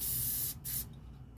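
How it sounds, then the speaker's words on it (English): Spray paint hisses from an aerosol can onto a DIY bracelet holder in one long, steady burst lasting about half a second, then a second, shorter burst. It is loud and close, with no talk over it. "And let me just spray that."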